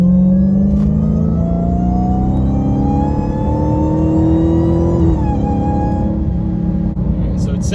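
A Dodge Charger Hellcat engine with a Borla ATAK exhaust revs steadily upward with a loud, whining tone, holding high before dropping slightly, a continuous close roar throughout.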